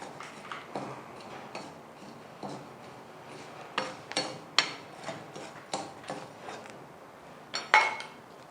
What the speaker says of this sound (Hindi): चम्मच मुसलसल चलाते रहना, चम्मच को नहीं आपने रोकना